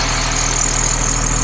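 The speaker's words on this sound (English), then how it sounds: "This is the Type C7 triple diesel engine" A Caterpillar C7 7.2-liter diesel in a 2007 Blue Bird All American bus idles close by, a steady, even rumble with a faint rhythmic knock.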